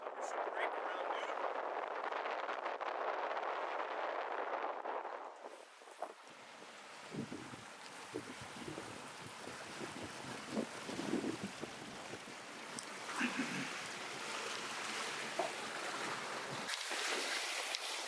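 A sailboat is under way in about 14 knots of wind. Strong wind buffets the microphone at first, then gives way to a softer rush of water and hull noise with faint knocks and creaks.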